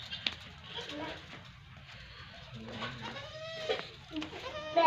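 A Teddy goat bleats several times in short wavering cries, close by on a farm, between stretches of someone talking and faint background birds.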